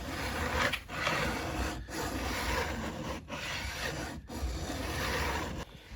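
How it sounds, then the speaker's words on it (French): A hand file rasps wood flush against a guitar neck during fretting work, making steady, close scraping strokes broken by short pauses between passes. "je lime vraiment jusqu'à ce que ça soit tout bien affleuré au manche"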